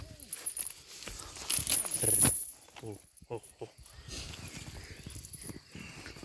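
Horse hooves clop and shuffle nearby among outdoor rustling and faint jangling in Kosmach, Ukraine, with a few brief murmurs in the background.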